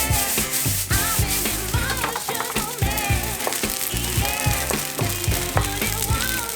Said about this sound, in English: We're going to fry the rice until it gets some color on it.